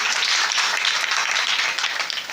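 A crowd at a folk bharud performance claps together in a short, dense burst of applause that stays loud and even throughout.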